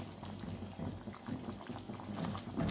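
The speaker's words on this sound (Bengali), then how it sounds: "তাই অল্প পরিমাণে পানি দিলাম" Hot water poured into a pot of simmering chicken curry: a steady, continuous splash and bubbling hiss for a few seconds, close by, with no talking.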